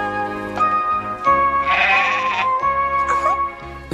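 A sheep bleats several times close by, with long wavering cries following one another, in a cartoon farm scene with no talking.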